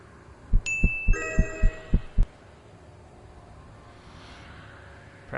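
Heartbeat sound effect from a horror story game: seven heavy, evenly spaced thumps in a quick run, with bright chiming tones ringing over the middle beats, then a quiet ambient tail.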